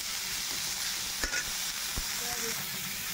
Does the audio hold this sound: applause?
no